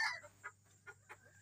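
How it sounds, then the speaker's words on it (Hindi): Egg-laying hens in their coop before dawn give a few soft, short clucks at a slow uneven rhythm, faint against a quiet steady hum. "ये मुर्गी जो हमारी अंडे वाली मुर्गी है"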